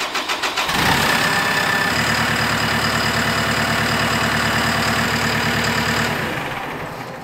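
A truck engine cranks over with its cab tilted forward, catches and settles into a loud, steady, close idle with a slight knock, then cuts off near the end.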